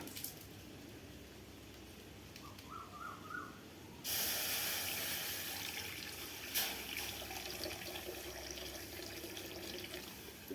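Water poured into a hot wok hisses and sizzles, starting abruptly with a bright, loud spray-like rush that settles into a steady hiss, close by.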